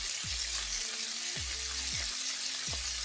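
Small pork pieces brown in bacon grease in a skillet for feijoada, making a constant bright sizzle with a few low thumps recurring underneath.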